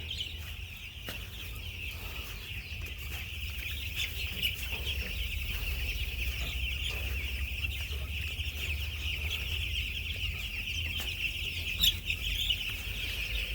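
Chickens cluck softly and continuously nearby, a flock murmuring over a steady low background hum, with no one speaking.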